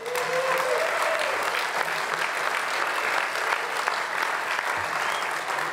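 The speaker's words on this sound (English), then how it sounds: "Give these folks another round of applause." An audience at a Santa Monica State of the City event applauds steadily, a dense, sustained wash of clapping from a large crowd in a hall, loud and continuous throughout with no talking over it.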